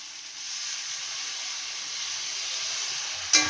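Water poured onto frying ground spice masala with ginger, onion, garlic and tomato, a steady hissing sizzle of steam close by, ending with a brief clatter.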